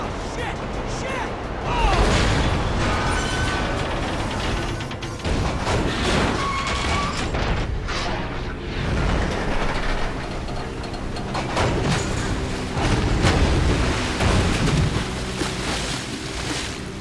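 A train blows up in the GTA 5 video game, a long roaring, crashing blast with repeated surges of rumbling debris that carry on loudly throughout.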